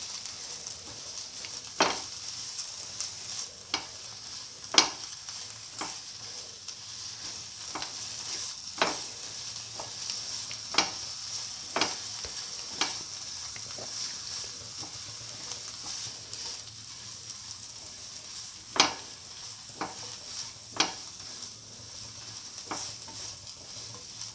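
Tomato pieces stirred in a pan with salt for a soy chunk and fenugreek leaf noodle dish, a steady soft sizzle broken by regular sharp scrapes and taps of the spoon against the pan, close and unhurried.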